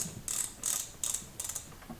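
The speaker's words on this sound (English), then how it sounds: "press it inwards and start cranking" The Boa dial on a KLIM Adrenaline boot is cranked to tighten the cable, giving four or five quick bursts of crisp ratcheting clicks in a steady rhythm, close up and with no talking.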